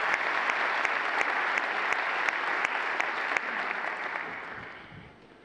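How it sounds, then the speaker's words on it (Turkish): Audience applause for the athletes at a Galatasaray sports club event, a broad steady roar of clapping with some sharp individual claps standing out, fading away over the final second. "Onlara buradan büyük bir alkış rica ediyorum onların motivasyonu için."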